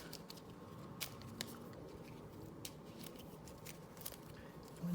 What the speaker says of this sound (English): Shuffle, shuffle, shuffle.